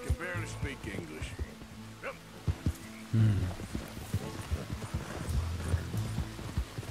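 Horse hooves clip-clop in Red Dead Redemption 2 as the rider travels, an uneven steady beat under in-game voices and background game sound.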